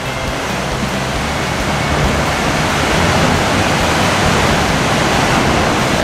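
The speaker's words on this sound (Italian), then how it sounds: "Oh, la potenza delle onde." Powerful ocean waves surging through a natural rock arch at Punakaiki Pancake Rocks, New Zealand, a loud continuous roaring wash of water that swells slightly stronger partway through, close and without speech.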